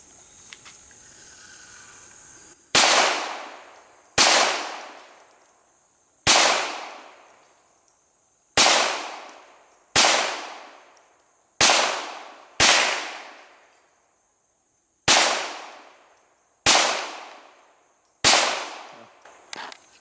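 Ten sharp .22 LR rifle shots fired at an outdoor shooting range, each a crisp crack with a short decaying tail, spaced irregularly one to two seconds apart after a quiet start, with no talking.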